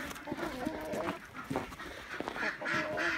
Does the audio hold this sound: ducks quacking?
yes